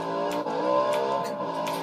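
A car engine in a video game, kept running by holding down a key, gives a steady, moderately loud hum that wavers slightly in pitch over a short stretch.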